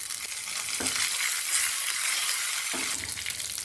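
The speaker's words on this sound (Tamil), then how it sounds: "தாளிப்பு வறுபட்டுடுச்சு" Steady, dense sizzling of spices and curry leaves frying in hot oil for a tempering for village-style cabbage kadayal, continuous and fairly loud, with a couple of faint clinks partway through.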